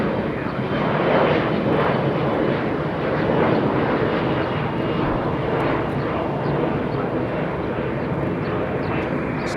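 An airliner departing Los Angeles International Airport, a sustained loud jet engine roar that holds steady and broad throughout, with no pauses or distinct events.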